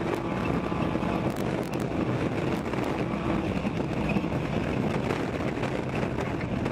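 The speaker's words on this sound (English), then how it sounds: "There's our helicopter getting speed up on the props." A helicopter's rotors spin up at a ChampCar endurance race, a steady, loud mechanical roar with wind buffeting, the engine running up and holding its pitch, close by with no voices.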